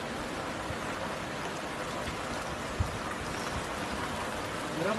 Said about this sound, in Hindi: एक ही पहाड़ में सर ये गर्म है हॉट स्प्रिंग